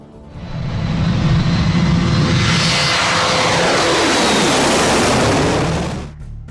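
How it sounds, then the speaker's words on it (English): A Boeing 737 airliner takes off, a broad engine roar swelling quickly and holding loud and steady for several seconds before dropping away, with no voices. "Fortunately, the 737 managed to ascend into the sky, avoiding a potentially disastrous outcome."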